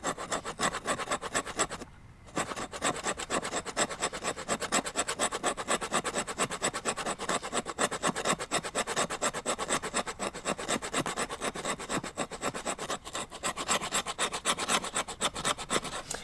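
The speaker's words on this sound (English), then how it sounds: "This will actually do a little bit of work here for the scraping on the fat wood." A Work Tuff Gear Woodscraft Chanto prototype knife scrapes fatwood in steady, rapid rasping strokes up close, continuous apart from a brief pause early on.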